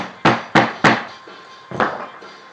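A rubber mallet taps a wedge: four distinct dull thuds, the first three in a quick even rhythm and the last after a short pause, close and fairly loud with no talking.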